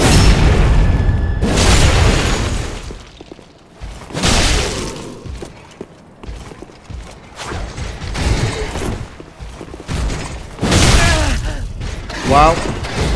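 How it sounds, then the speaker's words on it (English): Combat in Dark Souls 3 against a red-eyed Lothric knight: heavy metallic impacts, booms and clanking armor in irregular bursts, loud and close, mixed with game effects and intermittent commentary. "we can sneak up on him, get a backstab, and then charge up a heavy attack, which is Hiro Tsuki's idea"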